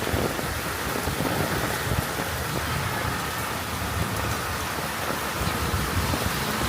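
Heavy rain falls steadily and loudly in an outdoor street scene, with a low rumble of thunder running underneath the dense, unbroken hiss.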